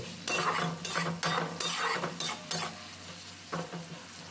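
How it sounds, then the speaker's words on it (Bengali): Ginger-garlic paste frying with onions in a pan, stirred in repeated bursts of loud scraping and clattering over a continuous sizzle, with a brief pause before a final stir; no voices. "এবার পেঁয়াজের মধ্যে আমি দিয়ে দিলাম আদা রসুন বাটা আদা রসুনটা এক দু মিনিট এইভাবে নাড়াচাড়া করে নিতে হবে"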